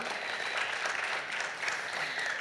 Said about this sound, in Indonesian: Tepuk tangan untuk Bung Joni.